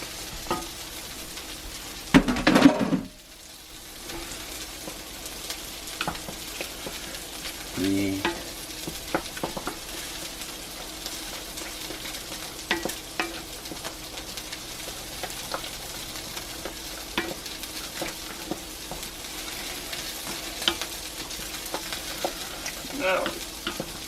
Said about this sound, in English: Go ahead and throw the macaroni back in